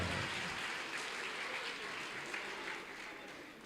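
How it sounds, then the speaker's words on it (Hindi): Applause from a mushaira audience for poet Shiv Sagar at Islamia College of Commerce, a steady dense wash of many hands clapping that carries on without a break and eases slightly toward the end. "तालियां बजा दीजिए एक मरतबा शिव सागर भाई।"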